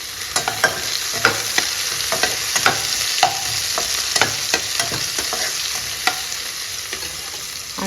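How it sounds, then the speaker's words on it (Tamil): Large onions sauté in a pan, a steady close sizzle broken by frequent sharp scrapes and clinks as they are stirred, with no talking. "வெங்காயம் கொஞ்சம் வதங்கட்டும்"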